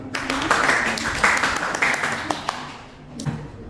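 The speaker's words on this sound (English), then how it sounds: "Give applause to Adi and Dula." A classroom of students claps for two classmates, a short, uneven patter of scattered hands, moderately close, with some irregular louder claps and a brief lull near the end.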